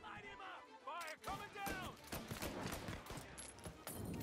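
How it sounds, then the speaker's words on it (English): Gunfire in the video game Mafia Definitive Edition: bursts of sharp in-game shots and impacts layered under a person talking and game voices, moderately loud and fairly close. "Reports of gunshots rolling in."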